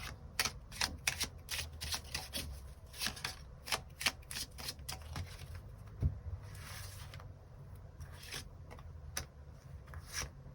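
A deck of tarot cards is shuffled up close in quick, papery riffles and flutters that repeat in bursts throughout, with no voices.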